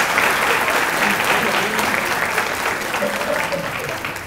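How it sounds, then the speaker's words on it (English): Crowd at a distinguished alumni awards ceremony applauding the honorees, a loud, continuous wash of clapping from a large audience holding steady across the whole stretch. "Let's give another round of applause for these honorees."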